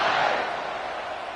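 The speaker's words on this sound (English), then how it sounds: "this crowd is buzzing after that last score" Football stadium crowd buzzing after a score at a college game, a steady broadband roar that swells briefly then holds at a sustained, loud level throughout.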